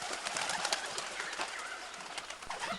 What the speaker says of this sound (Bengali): আকাশে সাঁই সাঁই শব্দ শুনিয়া চোখ তুলিয়া দেখি এক ঝাঁক বন পায়রা মাথার উপর দিয়া উড়িয়া যাইতেছে।